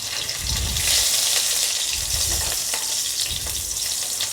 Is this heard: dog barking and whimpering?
no